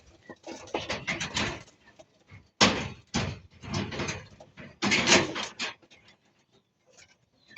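Pigeons in a small flyers' loft with a new setup, heard as close, irregular bursts of wing flapping and scuffling, separated by short quiet gaps.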